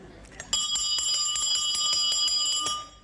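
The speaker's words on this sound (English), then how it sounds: "That was the janitor ringing the big school bell." A janitor rings a big school bell. The clanging strokes come in a fast, steady series, bright and ringing, sustained for a few seconds before fading out.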